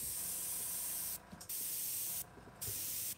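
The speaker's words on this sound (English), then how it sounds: "I'm just spraying a little bit on there just to lighten them up just a hair." An airbrush sprays paint onto a foam Freewing F-86 90mm model jet, giving a steady close hiss broken by two short pauses.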